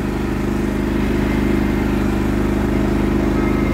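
A Cub Cadet GT2544 garden tractor with AGRO tires drives along, its engine giving a loud, steady, close mid-pitched drone with a rapid pulsing firing rhythm throughout and no talk.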